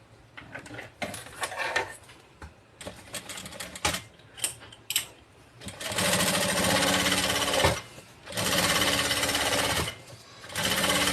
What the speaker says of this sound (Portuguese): vou colocar sobre o nylon emborrachado e vou fazer uma costura a toda volta e depois refilar